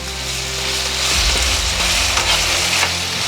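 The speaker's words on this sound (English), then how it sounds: "So as our onions and garlic are sauteing, I just give it a mix a little bit" Onions and garlic sauté in butter for scalloped potatoes, a steady close sizzle with faint stirring scrapes and a low hum underneath, no voices.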